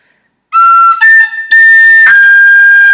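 Tin whistle plays the first two phrases of the B part of the Irish tune Scaip An Puiteach, a loud, close run of bright, clear notes with short breaks between them, played solo.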